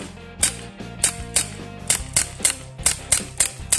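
A Glock 19 BB pistol without blowback fires about nine sharp snapping shots at a quick, slightly uneven pace, with mechanical clicks between them and no talk.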